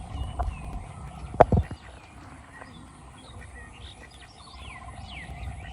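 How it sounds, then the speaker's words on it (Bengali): Ducks on a river give faint, scattered calls and chirps over a quiet outdoor background. A single sharp knock comes early on. "নদীতে হাঁস দেখেন কি সুন্দর"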